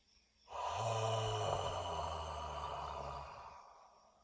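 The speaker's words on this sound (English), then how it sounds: "I'm gonna yawn" One long, slow yawn during a relaxing qi gong exercise, a breathy voiced exhale that opens suddenly, holds, then fades out, close and quiet with nothing else around it.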